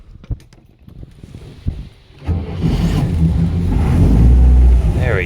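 A 1980 Atomic 4 inboard boat engine cranks in short bursts, catches on a cold start without a choke and revs up loudly, roaring close by. A person speaks briefly during the cranking.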